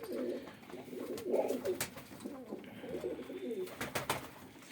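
Pigeons coo softly in low, rolling murmurs, with a few sharp clicks and flutters nearby; the sound is fairly quiet and continuous.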